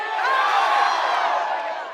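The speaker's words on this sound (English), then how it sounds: "cheers from the Wildcat crowd" Fans in the Wildcat crowd at a lakeside Northwestern football game cheer together, a broad sustained roar of many voices that stays steady and loud, then eases slightly at the end.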